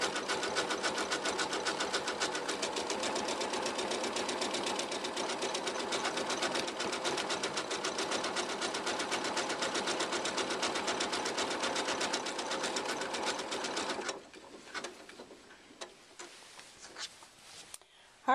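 A Janome 15000 embroidery machine stitches steadily with a dense, rapid mechanical chatter for about fourteen seconds, then stops, leaving a few quieter clicks and handling noises.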